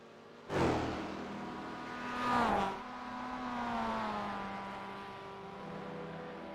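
A Mazda MX-5 class race car comes into the pit lane during a club race, a sudden loud engine burst followed by a revving, whining pass-by that settles into a steady lower drone.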